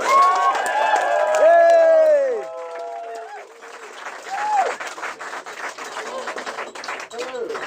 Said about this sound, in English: so give a moderate applause to Courtney.